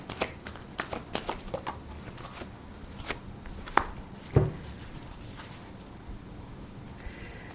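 Tarot cards are shuffled by hand in quick, soft riffling bursts, a faint close-up patter that thins out, with a couple of louder taps near the end.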